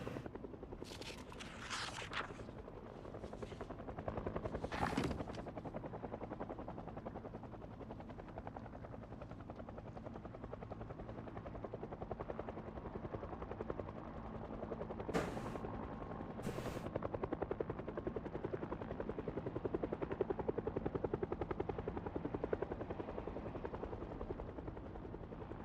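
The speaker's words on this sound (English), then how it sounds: "There's the chopper." Helicopter in a modded video game, a continuous rotor drone that grows gradually louder, with a few sharp clicks and bursts early on and midway.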